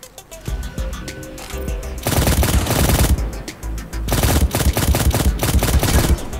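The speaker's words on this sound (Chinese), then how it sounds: "有枪声！" Rapid automatic gunfire in the mobile battle royale shooter 量子特攻 (Quantum Special Ops), loud close bursts with brief pauses, scattered single shots before the long sustained volleys.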